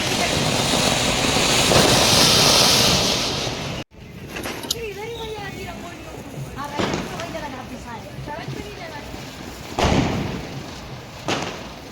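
Diwali firecrackers bursting outdoors: a loud sharp bang cuts through steady noise, followed by several fainter cracks and pops spaced a few seconds apart, with people talking and calling out around them.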